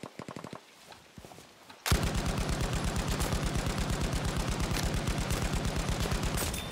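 Battlefield V gunfire: after a couple of scattered shots, a loud, rapid and steady stream of automatic machine-gun fire kicks in and keeps hammering without pause.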